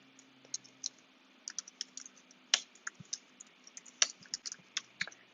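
Someone types on a computer keyboard while coding a game server, giving quick irregular bursts of close, crisp key clicks with a few louder strikes and short pauses between, with no talk.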